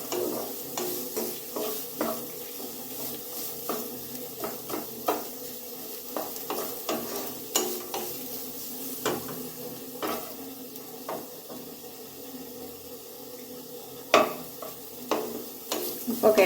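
A spoon stirs beetroot upma, with grated coconut, in a frying pan: repeated scraping strokes against the metal, roughly one or two per second, over a soft sizzle, close up and without talk.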